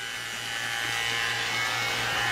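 Vacuum pump drawing down a car's freshly hooked-up AC lines, a steady close electric whir that holds constant without talk.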